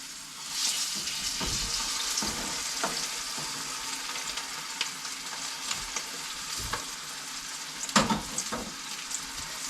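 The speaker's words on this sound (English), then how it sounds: "And we'll let that fry for a little bit" Crappie fillets caught in Wisconsin fry in a pan with a steady, close hiss of hot oil, punctuated by occasional spatula scrapes and small clatters.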